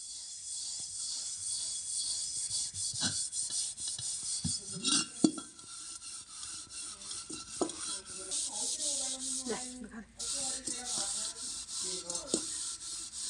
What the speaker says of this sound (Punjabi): ਹੁਣ ਆਪਾਂ ਇਹਨੂੰ ਭਾਂਡੇ ਵਾਲੀ ਸਾਬਣ ਲਗਾ ਕੇ ਚੰਗੀ ਤਰ੍ਹਾਂ ਸਾਫ਼ ਕਰ ਲੈਣੇ